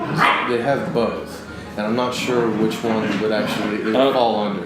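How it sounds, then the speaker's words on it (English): Rambunctious pet dogs bark indoors in the evening, a few sharp yaps breaking through under steady, continuous conversation. "Excuse my dogs. They're rambunctious this evening."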